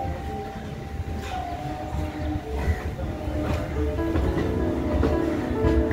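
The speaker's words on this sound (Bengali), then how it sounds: "গঙ্গার পাড়ে থেকে চক্র রেল যাচ্ছে।" Kolkata circular rail train rolls along the bank of the Ganges, a steady near rumble of wheels and carriages that swells slightly, with faint squeals and clanks over it.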